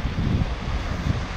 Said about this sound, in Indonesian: Angin pun kuat.